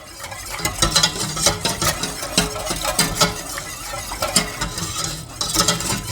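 Whole milk being whisked in a bowl, a busy run of quick clattering strokes that keeps a fast, uneven rhythm throughout, close and fairly loud.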